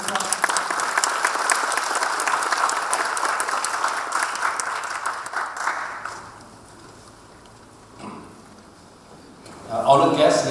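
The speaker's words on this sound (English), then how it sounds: "Please give him a round of applause." A conference audience at a Malaysian Bar Council opening applauds steadily for several seconds, then the clapping fades away into a quiet room before another brief sound swells near the end.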